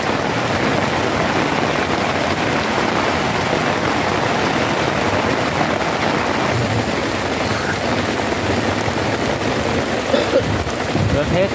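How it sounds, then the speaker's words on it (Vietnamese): Heavy rain pours down with strong gusting wind, a dense, unbroken roar that stays loud and near for the whole stretch. "Rớt hết, đang mưa lớn quá."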